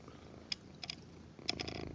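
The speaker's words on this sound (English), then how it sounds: "Can you hear her purring?" A cat purring in the video game Metal Gear Solid 4 comes through as a faint, low, rough rumble under a steady background hum, with a few brief brighter bursts on top.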